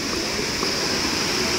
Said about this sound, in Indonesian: di bawah sini nih ada sungai.